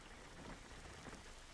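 Steady rain falling in the video game Jalopy, a continuous faint hiss of drops on surfaces with no talk.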